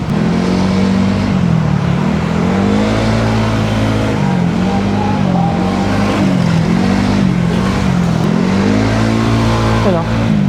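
Honda Giorno scooter riding with a new quiet aftermarket exhaust pipe: a steady, close engine drone that rises and falls with throttle throughout, with wind noise over it.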